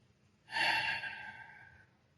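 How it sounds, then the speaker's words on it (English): A single long, deep breath, drawn in and then let out softly, close and quiet with nothing else around it. "Take a deep breath."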